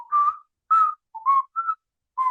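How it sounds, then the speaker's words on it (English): Whistling opening a song: five clear, pure whistled notes, close and alone, each short and sliding slightly in pitch, with brief gaps between them. "And it starts with whistling."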